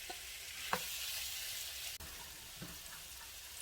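Shrimp fry in a pan for Toowoomba pasta, giving a soft, steady sizzle with a few brief stirring clinks, quiet and close, no talking.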